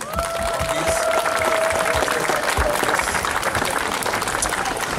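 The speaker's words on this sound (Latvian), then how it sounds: "Skaļi aplausi!" Loud, sustained applause from a festival audience at an outdoor Easter swing festival in Sigulda, dense clapping filling the whole stretch with crowd noise and a faint tone drifting through.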